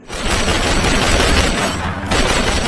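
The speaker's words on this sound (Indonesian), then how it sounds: "Dan anggotanya Melanie pun di sini sangat bergembira menembaki para zombie di bawah." Rapid automatic gunfire aimed at zombies in a film, a loud, dense continuous fusillade with a brief dip before it resumes.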